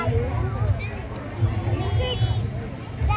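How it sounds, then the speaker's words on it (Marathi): A busy crowd at a street show in Baramati murmurs and chatters all around, a steady babble of many voices with occasional nearer talk and movement. "चांगलीच गर्दी व्हायला लागली बघा"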